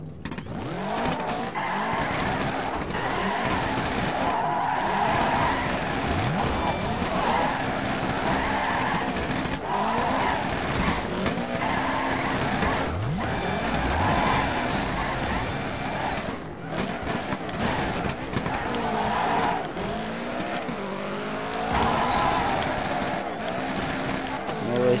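Car sliding and skidding in the DIRT 3 offroad racing video game: engine revving in rising and falling sweeps while tires squeal and scrub repeatedly, loud and continuous, with someone talking over the game sound.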